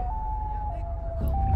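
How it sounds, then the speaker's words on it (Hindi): A siren-like wail attributed to the Siren Head creature holds a steady mid-pitched tone that wavers slightly, over a low rumbling background and fairly close. "ये तो साइरन हेड की आवाज है"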